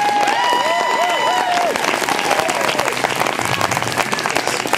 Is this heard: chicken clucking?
no